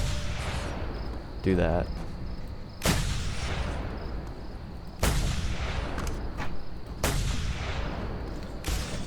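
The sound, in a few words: gunshots in Just Cause 2 multiplayer video game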